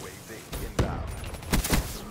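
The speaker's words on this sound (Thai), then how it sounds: "เป็นปืนที่บอกว่าเน้นยิงแบบอย่างรวดเร็วนะฮะ" Rapid gunfire from a fast-shooting weapon in the multiplayer shooter Call of Duty: Black Ops III, a few sharp bursts of shots in quick succession, fairly loud against busy game background noise.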